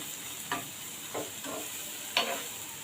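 Onions, green chilies and curry leaves sauté in a pan for paneer bhurji: a soft steady sizzle with four distinct spatula scrapes spaced about half a second apart.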